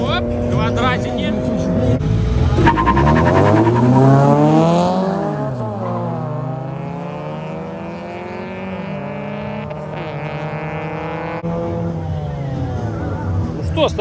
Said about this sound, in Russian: Это выхлоп Subaru, если что.